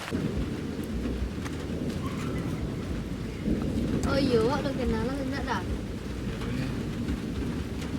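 Heavy rain with thunder, a steady broadband downpour with low rumbling swells, while people converse close by over it.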